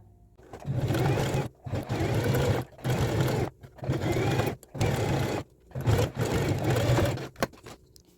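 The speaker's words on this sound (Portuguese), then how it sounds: "eu vou lá para a máquina para passar uma costura de 1 centímetro aqui" A sewing machine runs a 1 cm seam around a blazer shoulder pad in six or seven loud, steady bursts of rapid stitching, separated by short pauses.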